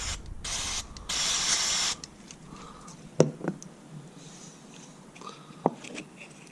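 Two bursts of aerosol mass air flow sensor cleaner sprayed onto the sensor of a 2001 VW Golf Mk4 1.8T GTI, a short hiss then a longer two-second blast, followed by quiet handling clicks and taps.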